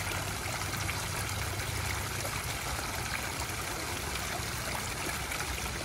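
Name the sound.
backyard garden waterfall, the louder of two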